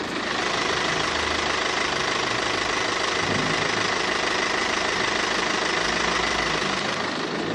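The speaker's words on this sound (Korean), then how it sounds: "엔진 소리 한번 들려드릴게요" A BMW 520d (sixth-generation 5 Series) diesel engine idles close up with the hood open, a loud, steady rumbling clatter that holds constant throughout.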